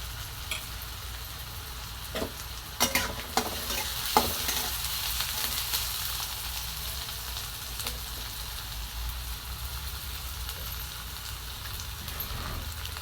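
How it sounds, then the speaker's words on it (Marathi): Onion and green chillies stirred while frying in a pan, a constant, dense sizzle like light rain with occasional scraping knocks from stirring. "आणि कांदा असा मिक्स करून घ्या थोडा वापर करून आहे बघा आणि कांद्याच्या नंतर टाकल्यात मिरच्या"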